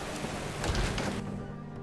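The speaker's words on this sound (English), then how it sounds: "Get out of this rain." Steady rain falling in the video game Skyrim, a soft continuous hiss of drops close by, lightly swelling midway, with no talking over it.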